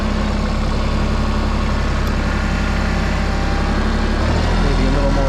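Mahindra tractor engine running in four-wheel drive low range with the diffs unlocked, a loud continuous low diesel rumble throughout, dipping slightly in pitch near the end.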